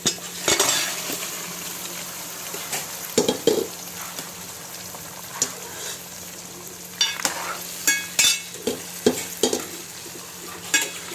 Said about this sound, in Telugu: మొత్తం మంచిగా కలిసిన దాన్ని తిప్పుకోండి.